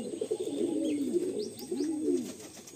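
Madrasi pigeons coo inside a loft in Behala, a close series of soft, rolling, throaty coos repeating back to back, with faint higher chirps scattered above.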